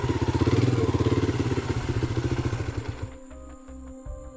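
A motorcycle engine runs loud and close with a steady throbbing rumble, then eases off into idle with thumps and clatter, ridden at night toward a haunted cottage.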